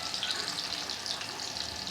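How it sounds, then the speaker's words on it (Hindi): Turmeric-masala fish frying in a pan gives off a steady, close, even sizzle, dense crackling with no break and no voices. "अब ये फ्राई होगी।"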